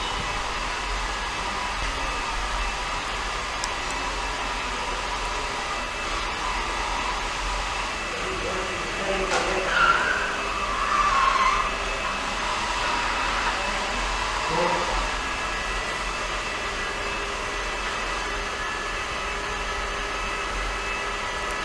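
Ecovacs Deebot Ozmo 950 robot vacuum running with its mopping function, a steady close whirring drone that lasts the whole time and swells slightly as the unit turns and changes direction.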